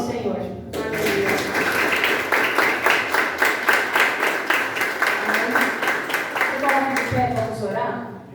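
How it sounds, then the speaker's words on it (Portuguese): A church congregation claps and cheers through a sustained round of applause in a worship service, with dense rhythmic claps and voices mixed in. "aplaude o Senhor"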